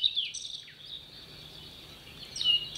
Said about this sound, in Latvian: tu zini tādu putnu lukstu čakstīte?